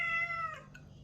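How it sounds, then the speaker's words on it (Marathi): A single drawn-out cat meow sounds close by in a Konkan village home where chicken is cooked on a wood-fired stove, sliding downward and fading within about a second over a quiet background. "मांजर आला."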